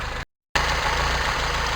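A carbureted Toyota Tercel 4WD engine idles with a steady, even hum, briefly cut by a moment of silence before resuming just as smoothly.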